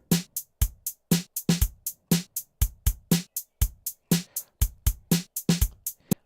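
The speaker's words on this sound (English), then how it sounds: "So this is the drum pattern alone." A crisp electronic drum loop plays alone, steady kicks and snappy hits with a quick ticking hi-hat driving a tight, repeating rhythm.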